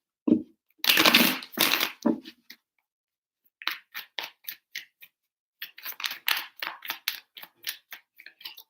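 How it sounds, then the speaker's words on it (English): Tarot cards shuffled by hand in a quiet room, first a long riffling burst, then two runs of short, crisp flicks and taps close up, with pauses between them. "Three shuffles for Pisces, please."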